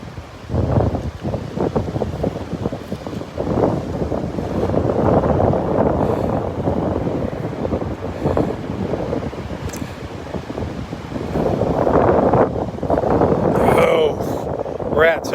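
Wind blows hard across an open beach, rumbling and buffeting the microphone in sustained gusts, with faint surf beneath and a person talking through much of it.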